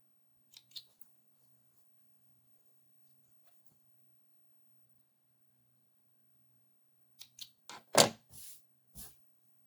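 Sewing scissors snip the thread tails on a triangle zipper bag, a few quiet clicks first, then after a pause a close cluster of sharper snips and rustles, with no voice heard.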